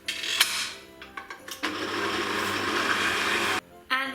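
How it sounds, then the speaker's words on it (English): Stand mixer stirring butter into flour for Christmas tree cookie dough: a few clinks and knocks, then a steady motor whir for about two seconds that cuts off, with a brief restart at the end. "So I have my stirring machine ready here, and what I will do is just to add my butter into my flour"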